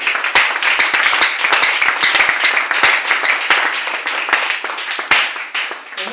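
A church congregation claps and applauds for several seconds, a loud, dense, continuous crowd of hand claps with sharp individual slaps standing out close by.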